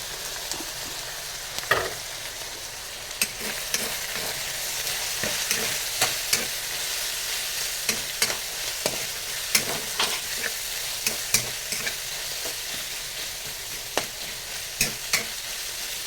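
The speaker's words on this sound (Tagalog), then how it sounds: "Gisa-gisa natin ang ating chicken." Chicken being sautéed in a pan for pancit miki bihon, a steady close sizzle running throughout, broken by frequent sharp scrapes and taps of the spatula stirring the pieces.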